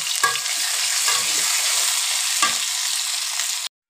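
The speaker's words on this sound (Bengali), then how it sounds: "এই দেখুন সরিষার তেল দিয়ে পেঁয়াজ কুচি দিয়ে দিলাম" Chopped onions fry in mustard oil in a pan, a loud, close, continuous sizzle with a few brief stirring scrapes, then cutting off abruptly.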